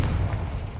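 Confringo fire spell exploding in Hogwarts Legacy: a short, heavy low-end boom with a rumbling tail, close and loud, with no voice over it.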